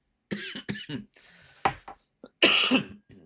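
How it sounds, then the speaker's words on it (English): A person coughs several times in quick, harsh bursts, then clears their throat, close to the microphone. "Sorry, I have a lingering cough."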